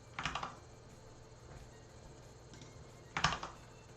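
Computer keyboard typing comes in two short, quiet bursts of a few quick keystrokes each, separated by a pause with only soft room hum.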